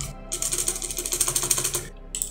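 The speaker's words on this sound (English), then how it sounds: "type a password" Password being typed on a computer keyboard during a Kubuntu install, a quick, even run of close, clicky keystrokes lasting under two seconds and framed by brief pauses.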